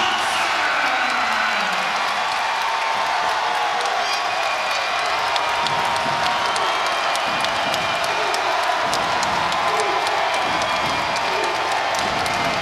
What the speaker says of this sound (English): this crowd reacting as such, feeling some momentum as Cochran sticks the jumper